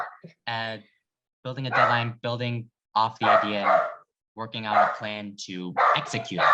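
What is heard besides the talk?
dog barking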